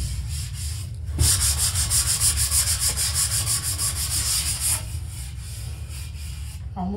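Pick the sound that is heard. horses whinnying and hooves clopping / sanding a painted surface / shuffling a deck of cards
sanding a painted surface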